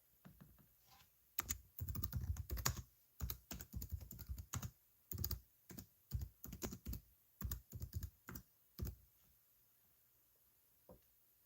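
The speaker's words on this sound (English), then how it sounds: "What am I typing in?" Fingers type on a computer keyboard in irregular bursts of close, crisp key clicks, quickening then thinning out with short pauses, ending in a single late keystroke in a quiet room.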